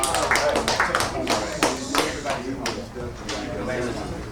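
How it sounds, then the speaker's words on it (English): Scattered hand claps ring out at a community gathering in a Boston church hall, sharp and uneven, mixed with voices talking over and between them. "Applaud yourself."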